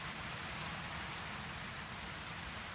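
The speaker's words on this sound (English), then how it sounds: "Heavy rainstorm today." Heavy rainstorm pouring down on an RV with a new roof: a dense, steady wash of rain drumming on surfaces, constant and even, with no talk.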